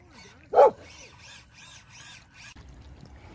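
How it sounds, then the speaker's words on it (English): A dog outdoors on a muddy trail gives one sharp, loud bark near the start, followed by quieter yips and whimpers mixed with soft background noise. "Somebody's dog."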